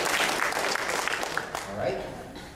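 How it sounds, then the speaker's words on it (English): Audience clapping steadily for a volunteer at a product demonstration event, a broad even wash of applause filling the room with some mixed chatter underneath. "let's give a round of applause for our volunteer."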